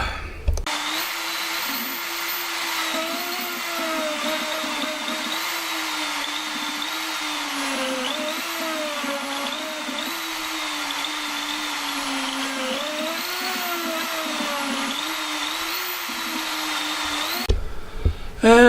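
A CNC machine with an upcut bit cuts a back panel in a steady, loud, whining drone with wavering pitch for about seventeen seconds, then stops.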